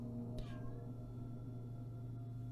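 A single short cat meow rises briefly over a steady low hum, fairly faint and indoors.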